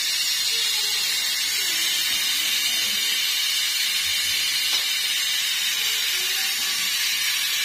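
Pot of soup boiling on a stove, a steady, even steaming hiss that fills the whole stretch at constant loudness, close by with no voices.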